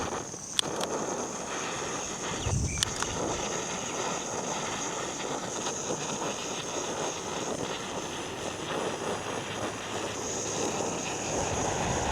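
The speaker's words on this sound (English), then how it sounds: "Bit of wind, love it." Wind blows steadily outdoors around an overhead power pole during electrical work, a constant broad rushing roar buffeting the microphone, with a few sharp clicks and knocks from handling near the start.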